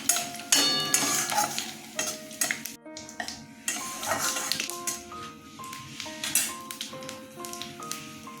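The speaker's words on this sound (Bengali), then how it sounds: "একটু জিরে ফোড়ন দিয়ে দিচ্ছি" Cumin seeds sputter and sizzle in hot oil in a home kitchen pan while cooking moong dal with a fish head, with a spoon stirring and clinking against the pot under light background music.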